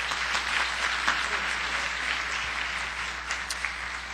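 Sustained audience applause from a crowd gathered for a guest speaker, steady and fairly loud across the whole stretch with dense, even clapping.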